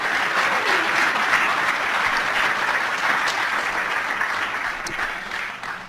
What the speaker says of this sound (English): Why don't we give Alex a round of applause?